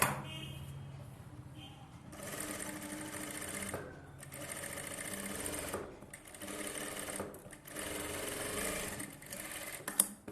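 Close-up sewing machine stitching a seam with a 1/4-inch allowance, running in several steady bursts separated by short pauses, with faint background voices between runs.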